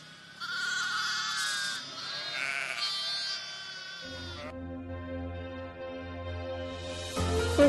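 Sheep bleat in wavering, drawn-out calls: several overlapping voices first, then a lower, steadier bleat that carries on before another higher cry rises at the end, all fairly close.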